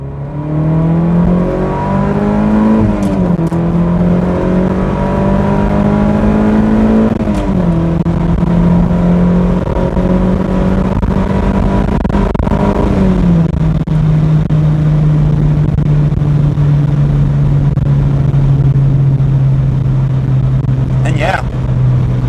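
A 2000 Toyota MR2 Spyder engine revs up through several gears, its pitch climbing then dropping at each shift, with a continuous road roar from inside the car.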